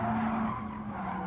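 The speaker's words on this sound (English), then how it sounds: "you can hear tires squeal so much better because you don't have a giant engine" Tires squeal on a Porsche Taycan electric car in Gran Turismo Sport at Laguna Seca, a sustained screech under a smooth motor hum, heard alone for a brief moment.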